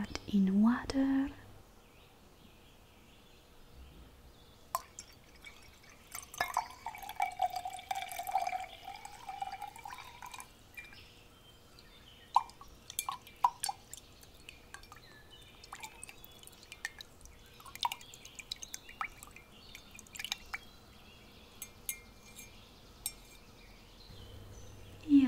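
Water drips and small liquid splashes as an ingredient is added, heard close and soft with scattered clicks and handling sounds, alongside a quiet whispering voice.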